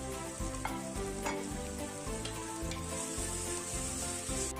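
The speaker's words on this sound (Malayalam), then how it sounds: "പച്ചമുളക് കീറാതെയാണ്, അതുപോലെ തന്നെ 4 എണ്ണം വലുത് ഇതിലോട്ടിട്ട് കൊടുക്കുന്നു. അതിനുശേഷം കുരുമുളക്, കുറച്ച് പട്ട, ഏലക്ക, കരയാമ്പൂ, പിന്നെ ഒരു ബേ ലീഫ് എല്ലാം ഇട്ടിട്ട് വഴറ്റാൻ നോക്കുന്നു" Whole green chillies, peppercorns, cinnamon, cardamom, cloves and a bay leaf sauté in a pan, giving a close, steady sizzle with stirring strokes, heard beneath constant background music.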